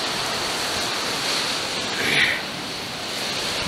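Open-ocean surf rolls in a continuous roar along a rocky coast near Sphinx Rock and London Bridge, mixed with steady wind rush, with one swell rising briefly louder midway.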